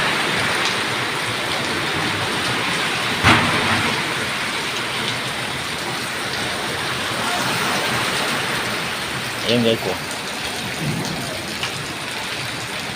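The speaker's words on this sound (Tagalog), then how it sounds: "Sobrang lakas ng ulan guys." Heavy rain pours down in a steady, dense roar that lasts throughout, with a brief sharp knock partway through and a few short bursts of speech over the downpour.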